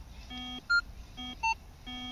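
Synthesized electronic beeps from a Signum 7272M metal detector alternate between low harmonic-rich tones and short higher pitched bleeps, played in a steady pattern, clear and close.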